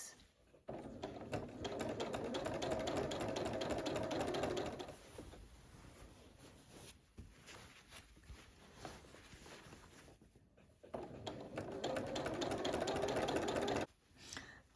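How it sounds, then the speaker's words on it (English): A sewing machine stitching a quilt runs in two long, fast, buzzing bursts, stitching steadily with a quieter pause between them. "it's actually quite important that nothing is obstructing the other side of the sewing machine"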